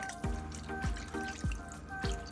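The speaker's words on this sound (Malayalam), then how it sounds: "അരച്ചു വെച്ച പാത്രത്തിലേക്ക് ഒഴിച്ച വെള്ളമാണ് ഒഴിക്കുന്നത്." Water drips in a steady rhythm, four distinct plops with falling pitch, close by over a faint steady hum, as water is poured into a Kerala coconut fish curry pot.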